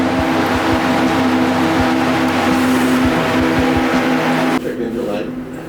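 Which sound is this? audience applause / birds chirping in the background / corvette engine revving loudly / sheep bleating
corvette engine revving loudly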